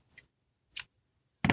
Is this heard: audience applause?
no